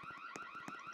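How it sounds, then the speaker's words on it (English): A car alarm in a Roblox game blares a rapid electronic warbling tone, pulsing quickly for a single second at moderate, slightly distant loudness. "is the alarm going off?"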